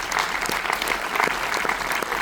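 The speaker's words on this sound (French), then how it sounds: "on peut l'applaudir" An audience claps in a steady, dense burst of applause after a film screening and tribute evening, loud and close, with no voices over it.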